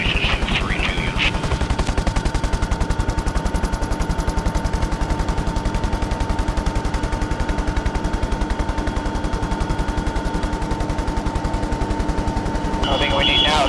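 Sustained automatic gunfire from people shooting, a steady rapid rattle of shots running throughout at close range, with brief radio-like voices at the start and end.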